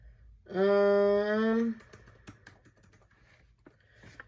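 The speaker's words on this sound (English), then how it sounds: "Sorry, I gotta type this up here." A brief sustained hum-like voiced tone opens, followed by light, scattered clicks of typing on a computer keyboard, close and faint.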